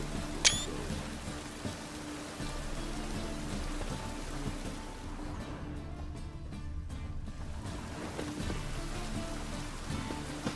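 Rain falls steadily in the video game The Witcher 3, an even hiss of drops spread across the whole stretch, with a sharp click near the start and no talking over it.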